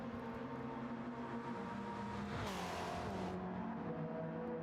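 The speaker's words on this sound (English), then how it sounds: "Got that buzzy sound to that RX-7." A Mazda RX-7 racing in a street car race gives off a buzzy, high, steady engine drone with a quick shift-like dip and a rise in pitch midway.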